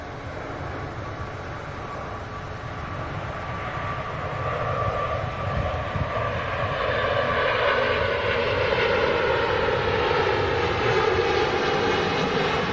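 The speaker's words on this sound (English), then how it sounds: "Emirates A380 just initiating his takeoff roll" An Emirates A380 airliner begins its takeoff roll at Manchester Airport. A broad jet engine roar builds steadily from a distant rumble to a loud, sustained spooling thrust heard from a distance, with no talking.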